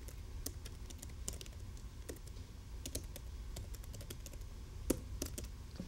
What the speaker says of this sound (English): Type in her email address.